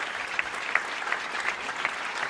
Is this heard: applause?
yes